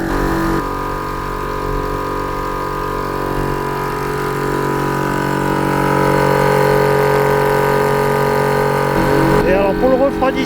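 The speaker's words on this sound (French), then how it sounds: "c'est que je suis en train de recharger la bouteille que j'ai utilisée pour..." Dive compressor recharging a scuba bottle on a quay, cooled with dock water, a steady loud mechanical drone running throughout with a constant hum, ending in a brief change near the close.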